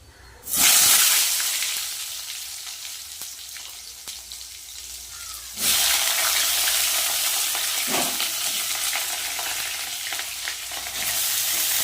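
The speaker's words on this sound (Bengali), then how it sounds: "তেলের মধ্যে দিয়ে দেবো কালো জিরে দিয়ে দেব কেটে রাখা পটলগুলো" Pieces of pointed gourd (potol) dropped into hot oil with nigella seeds burst into a loud, close, hissing sizzle, which eases slightly before a second surge of vigorous frying as more pieces go in, continuing strongly to the end.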